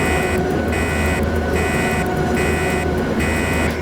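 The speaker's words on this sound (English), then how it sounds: "the train horn sounds like a kazoo in a wind tunnel" A buzzy, kazoo-like train horn in SimRail sounds in short repeated blasts over a steady low mechanical rumble.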